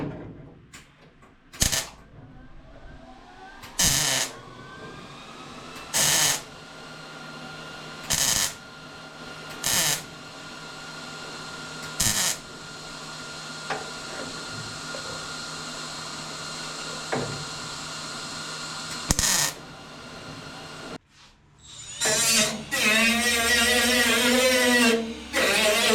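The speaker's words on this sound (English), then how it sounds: "So we got something for the weld to hit against, and it's much easier to fill these holes" Short bursts of welding filling holes in a sheet metal panel backed by copper, for a Datsun 280z, each burst a loud crackling buzz lasting about a second, repeated roughly every two seconds, ending with a longer harsh grinding-like burst.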